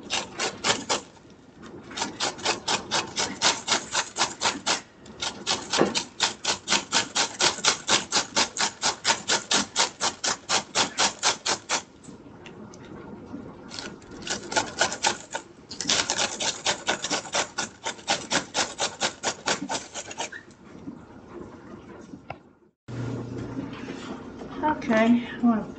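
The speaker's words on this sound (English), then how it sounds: "I need a fourth of a cup of finely grated cabbage." Cabbage finely grated by hand on a metal grater in a home kitchen, a long run of rapid, even rasping strokes in several bursts with brief pauses, close and fairly loud, with a short spoken moment near the end.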